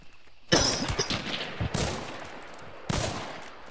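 Gunfire through a wall in a shooter game: three loud bursts of shots with sharp impacts, separated by short quieter gaps.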